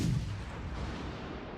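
A heavy boom from the guns of the British cruiser Devonshire in World of Warships, a single loud blast at the start trailing into a long rumbling decay.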